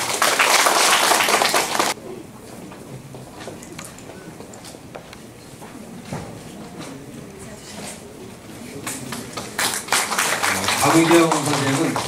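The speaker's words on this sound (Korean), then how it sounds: "큰 박수로 부탁드립니다" Audience applause at the opening of a calligraphy exhibition, a dense burst of clapping for about two seconds that then drops away into quieter room noise with murmuring and later stirring.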